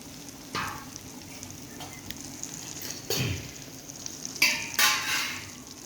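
Oil heating in a pan for homemade pickle, a steady low sizzle close by with a few sharper crackling bursts and light stirring clinks.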